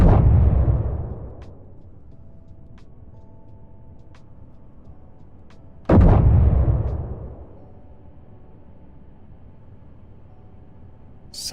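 A tank's main gun firing in a video game, two heavy booming shots several seconds apart, each ending in a long rumbling decay, with a sharp crack at the very end.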